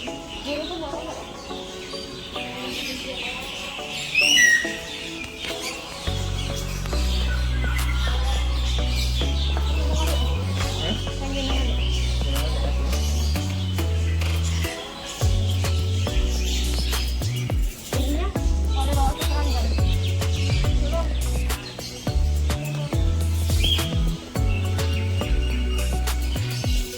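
Birds chirping and tweeting at a bird park in Palembang, scattered calls over a steady loud background of low droning music or hum, with faint voices nearby.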